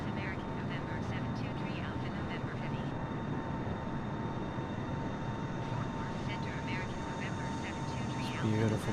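Steady cockpit drone of a Boeing 777-300ER jet climbing in Microsoft Flight Simulator, a constant broadband engine roar throughout, with radio-style voices talking over it.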